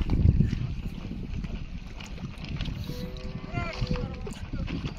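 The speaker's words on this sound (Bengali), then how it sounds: "এক ছেলে আবার টিনের নৌকা বানা নিয়ে নদীতে মাছ শিকার করছে। নৌকাটা হেভি জোরে যাচ্ছে" A homemade tin boat speeds along the Padma river at Rajshahi, giving a steady low rumble of engine and water with wind buffeting the microphone and a brief rising whine midway.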